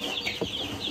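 Backyard chickens clucking softly in a short burst, faint and somewhat distant, over a light outdoor background hiss.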